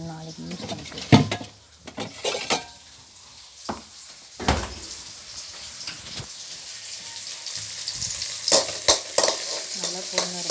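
Frying and stirring in a pan until golden, a light sizzle punctuated by irregular scraping clatters and sharp spoon knocks, close and intermittent, with a voice speaking over it.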